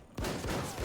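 Video game shotgun with an overpowered upgrade fires a loud, sharp blast after a moment of quiet, followed by dense crackling impacts and a second heavy boom near the end, all close and forceful.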